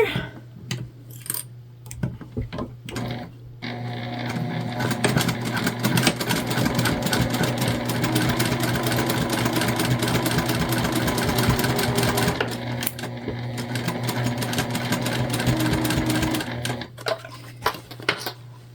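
A sewing machine stitches a quilted fabric pouch, running in one long rapid stretch of loud needle chatter after a few short bursts and before a few more stops and starts at the end.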